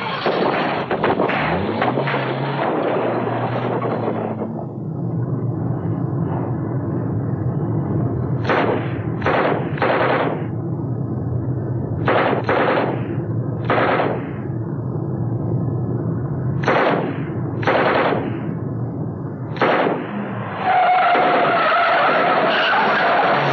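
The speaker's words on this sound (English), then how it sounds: "No roadblock, but an undeclared Wild West-style car chase." Reconstructed car chase with vehicles skidding and sharp bursts like gunfire: a steady engine rumble runs throughout, punctuated by a series of loud, abrupt cracks in quick succession, ending in broader noisy tire hiss.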